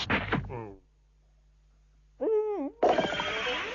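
A cartoon character named Shishimanu, turned into a little bird, gives a warbling hoot that swoops up and down, set between bursts of other sound and a brief spoken line at the start.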